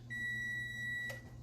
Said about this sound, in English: What you just heard is my oven.